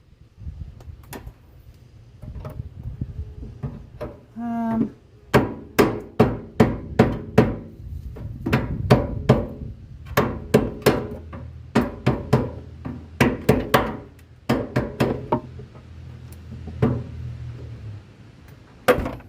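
Mallet blows on a wedged gas tank under a Capri, a long series of loud, sharp knocks in irregular bursts, some rapid and clustered, ringing with a metallic edge over a low background hum.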